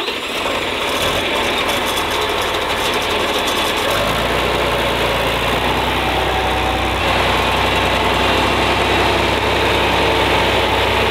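A tractor engine idles outdoors during a rainstorm on a farm, a steady low rumble with a slight knocking throb that holds evenly throughout, loud and close, with rain hiss over the top and no talk.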